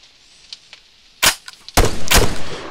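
Glitched weapon fire in the Arma 3 video game: faint ticks, then two loud, sharp gunshots about half a second apart, the second with a longer ringing tail.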